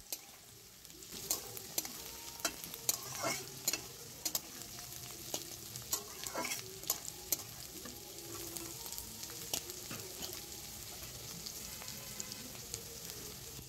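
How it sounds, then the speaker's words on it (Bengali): Chopped ginger and green chili sizzling in hot oil in a pan for Shyama rice pulao, with steady frying hiss and frequent sharp scrapes and clicks of a spatula stirring throughout, no talking. "এবার এর মধ্যে কুচিয়ে রাখা আদা আর লঙ্কা দিয়ে দেওয়া হলো"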